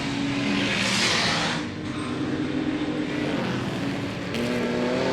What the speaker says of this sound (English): you can hear the superchargers screaming on quite a lot of these cars